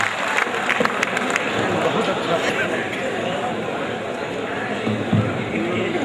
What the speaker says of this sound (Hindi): तालियों से इस्तकबाल किए